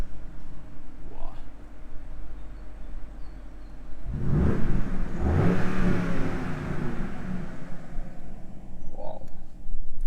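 A BMW 750i V8 M Sport (G12) in sport mode revs hard, the engine swelling from a steady idle into a loud, aggressive surge that holds for several seconds before easing back toward idle.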